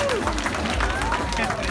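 A large outdoor crowd at a city day celebration by the sea station in Varna cheers and applauds continuously for a singer, a brief, dense wash of clapping and voices with a whistle or shout on top.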